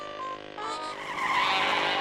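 A cartoon super speedy racing car whooshes and squeals, a rising, shrill engine-and-tire whine that swells louder toward the end, alone without talking.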